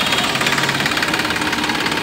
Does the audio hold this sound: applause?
no